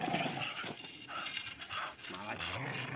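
Several dogs pant steadily during a working or training session, the quick breathing sitting under a man's calm spoken commands throughout.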